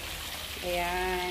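Hot water is poured into a cooking pot of vegetables, a steady splashing pour that begins partway through and grows into a brighter rising trickle, with a brief spoken word over the start.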